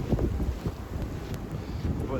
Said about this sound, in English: But it's windy, snowy, all around gross.